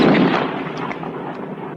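Gunfire from a 1942 samurai cowboy western, a dense burst of loud, reverberant shots that blur into a continuous rumbling barrage and ease slightly over the short span, with no voices.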